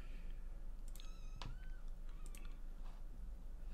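Kittens in The Sims 4 give a few high, thin meows and mews in a row, moderately close, over a steady low game hum with no talking.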